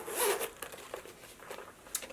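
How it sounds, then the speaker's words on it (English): Zipper on a Louis Vuitton monogram cosmetic pouch being pulled open: a few quick, soft, close-up zipping rasps with small pauses between them, quiet and without talk. "It's a white zipper opener."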